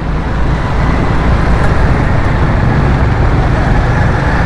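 Steady night road traffic near the Nursery bridge in Karachi, a dense continuous roar of cars, buses and trucks, loud and close throughout with no break and no speech.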